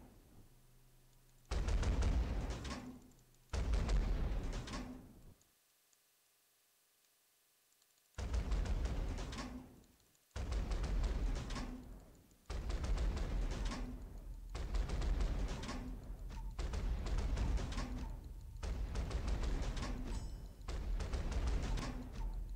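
Warship guns firing incendiary shells in the naval game Battle of Warships, booming in long heavy blasts with a brief silent gap, then a steady run of repeated salvos.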